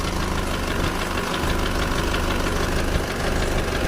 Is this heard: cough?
no